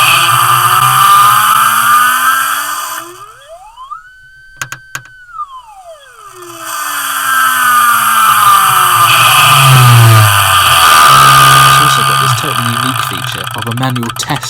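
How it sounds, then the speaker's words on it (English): A Lovato relay with an indicator light gives a whirring oscillation, a loud electronic tone that sweeps upward, holds, then slides back down before buzzing harmonics return, interrupted by brief clicks. "This one, made by Lovato, is really cool because it's got a light on it. And it makes a crazy whirring oscillation."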